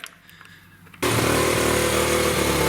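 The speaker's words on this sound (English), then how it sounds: "you want to make sure you warm the engine up" A dirt bike engine bursts into a loud, steady, buzzing idle partway through after a quiet start, running close and unbroken to the end as it warms up.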